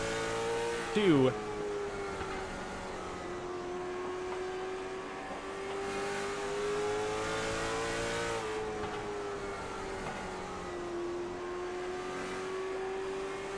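A race car engine drones steadily around the oval at Oxford Plains Speedway during a 200-lap short track race, a sustained mid-distance whine with a quick rev blip early on, under a commentator's voice.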